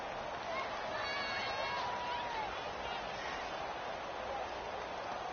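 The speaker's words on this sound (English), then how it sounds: "Listen to this crowd now" A stadium football crowd keeps up a steady, dense roar as the Ravens line up for a game-tying two-point conversion, with some whistling cutting through the wash of noise.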